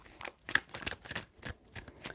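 A deck of tarot cards is shuffled by hand in a fast, close riffling rhythm of repeated soft snaps, heard alone.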